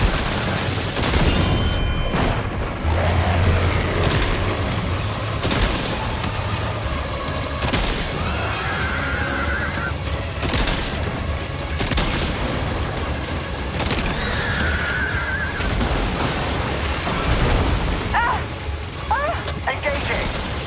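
Gunfire in the Death Stranding 2 video game, repeated loud shots and bursts over a busy, dense battle mix lasting throughout, with a voice speaking in places.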